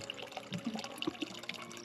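Water from a mountain spring flows and drips steadily in a rural home, a soft, close trickle with small splashes and droplet plinks.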